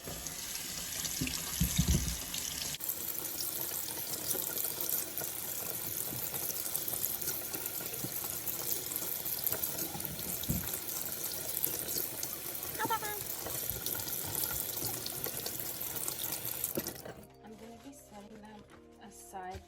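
Tap water runs steadily into a sink while strawberries are washed, a continuous close splashing rush lasting most of the stretch before it stops and faint handling noises follow.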